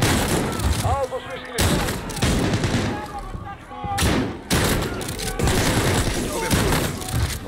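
Gunfire in Call of Duty: Modern Warfare (2019), with repeated loud shotgun blasts and booming shots in irregular bursts amid game sound effects.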